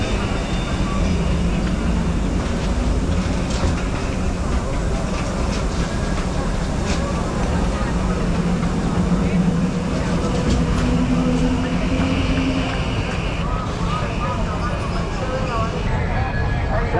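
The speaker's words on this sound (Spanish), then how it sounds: "Podemos ver que viene el tranvía y las personas siguen pasando por la vía del tranvía" A tram rolls along a busy street in Medellín, its low rumble and clatter blending into loud, continuous city noise, with people talking nearby.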